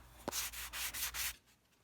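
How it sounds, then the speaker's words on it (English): Sandpaper rubbed along the rough edges of a homemade wooden soap cutter, a close, loud run of about five rhythmic scraping strokes after a sharp tap, then quiet. "you can sand them down with sandpaper, or even use an old fingernail file if you don't have any sandpaper"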